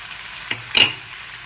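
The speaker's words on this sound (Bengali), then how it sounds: "এখন নেড়ে চেড়ে মিশিয়ে নিলাম" Potato curry with sugar being stirred in a pan, two short scraping strokes, the second louder, close by over a quiet background.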